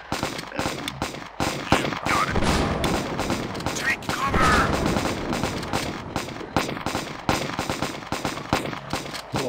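Turret gunfire aimed at zombies in the video game Zombie Defense, rapid loud bursts of shots and explosions filling the whole stretch, with someone talking over the top.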